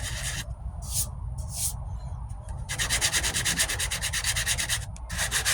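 Body filler being sanded by hand on the passenger-side wheel arch of a 1998 Ford Ranger: close, rasping strokes in short bursts, then a steady run of rapid back-and-forth rubbing.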